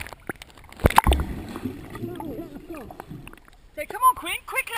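Paddling a small boat near rocks in open water: a strong splash, then gurgling and sloshing strokes that come and go, with people talking and shouting over the water.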